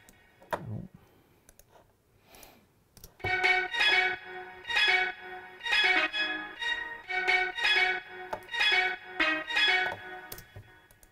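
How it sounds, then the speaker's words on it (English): Sampled steel pans from the Contact Factory library, used in a dance track. After a faint opening thump, bright, ringing pan notes play a bouncy repeating pattern of short strikes, moderately loud and alone. "It's literally just the steel pans from the Contact Factory library."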